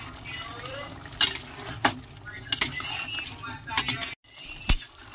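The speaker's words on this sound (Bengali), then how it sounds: "গরম মশলাটা দিয়ে একটু নাড়িয়ে দিয়েছি।" Vegetables being stirred in a pan after garam masala is added, with clinking spoon-on-metal knocks and scrapes over a soft sizzle, close and intermittent, with some speech.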